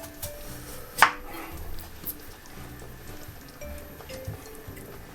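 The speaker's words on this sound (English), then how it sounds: "So we're just going to cut these into cubes so they cook a bit quicker." Potatoes cut into cubes on a chopping board: a sharp knife strike near the start, followed by lighter, scattered taps and soft thuds, close and quiet, with no talking.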